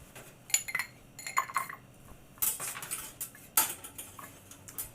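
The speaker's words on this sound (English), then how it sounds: "we will have our rock glass and a nice ice cube" Ice cubes clink into a rock glass during cocktail preparation, several bright glassy taps and knocks spread across the clip, close and fairly quiet, with no talk.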